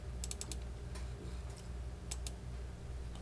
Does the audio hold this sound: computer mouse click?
yes